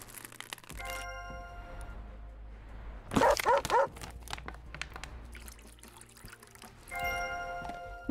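Dogs in a dog-rescue video game bark in a quick burst of several sharp yelps, fairly close, set against a steady game soundscape with a soft background tone.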